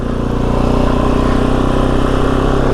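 Kove 450 Rally dual sport motorcycle engine running steadily while ridden, a continuous close, loud mid-pitched drone with a fairly even tone and no clear break for a gear change.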